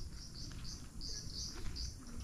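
Insects trill at night in a Japanese park, identified as cicadas: repeated pulsing bursts of high buzzing over a low background hum, moderately faint and steady with no voices.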